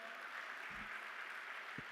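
An audience at an event welcoming spouses and family members gives a round of applause, a soft, distant wash of clapping with a couple of low thumps, and no one speaking over it.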